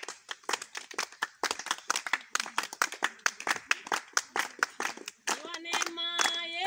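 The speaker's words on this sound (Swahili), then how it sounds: "Tupige makofi yetu." A church congregation at a baptism service claps hands in a quick, steady rhythm of sharp, close claps. Singing voices rise near the end.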